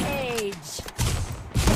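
Gunfire in the Free Fire battle royale game, a few sharp bursts of shots mixed with game effects and a voice, loud and close, with thuds between bursts.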